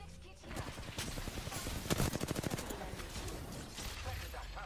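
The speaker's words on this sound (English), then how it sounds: "They're shooting at me." Video game gunfire crackles in rapid bursts, with a dense volley of automatic shots in the middle and scattered weapon and effect sounds throughout, mixed with game audio.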